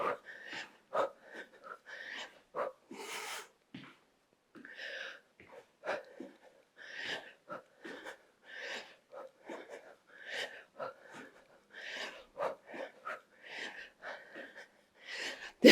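Heavy, rhythmic breathing during a circuit training workout combining strength and cardio, a series of sharp exhales and gasps in bursts through the whole stretch, close to the microphone.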